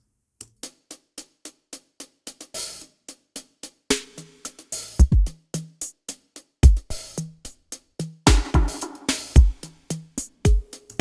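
A hi-hat pattern from the second verse of a drum production ticks in a quick, steady run, with heavier drum hits landing underneath partway through. No voices.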